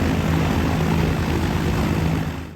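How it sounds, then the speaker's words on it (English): A light aircraft's propeller engine idles steadily just after start-up while warming up, a loud, continuous droning hum with no talk over it. "Just started the engine, and we're just going to let things warm up a bit."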